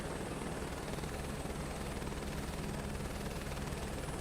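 Steady, close helicopter rotor and turbine drone inside Microsoft Flight Simulator 2024 career mode, a constant loud whir with rhythmic blade chop holding unchanged throughout, with no voices.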